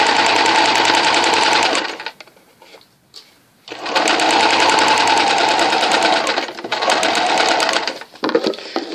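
Sewing machine stitching a narrow quarter-inch first-pass French seam on fabric, rapid close mechanical chatter running in long bursts with a short pause and a few stop-start gaps.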